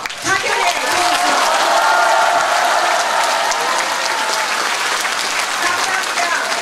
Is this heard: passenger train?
no